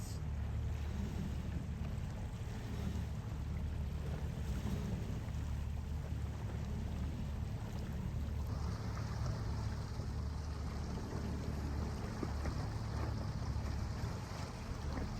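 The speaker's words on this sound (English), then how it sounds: "So they're jibing their way in very light winds, which has been the whole theme of the race." Racing sailboats jibing in very light wind during the final leg of a race, heard as a steady low rumble of wind and water against the hull with faint hiss and no voices.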